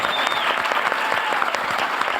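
An audience at a Los Angeles ska history panel claps, a loud, close, continuous burst of many hands with a faint whistle over it.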